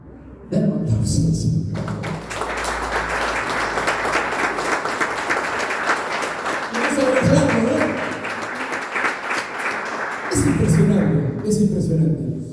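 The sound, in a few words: audience applause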